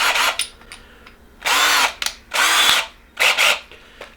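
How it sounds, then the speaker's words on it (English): A cordless driver bores holes in plastic for a chicken nipple waterer, four loud, close whirring bursts of drilling separated by short pauses, with no talking. "And the old trusty cordless driver."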